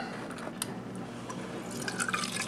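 Water trickles and drips through a repaired refrigerator ice maker water line, a faint, steady flow over a low hum, with brief spatters toward the end.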